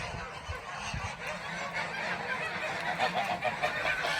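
A flock of geese on a goose farm honks continuously, many birds calling over one another in a dense, steady chorus that stays close and fairly loud throughout.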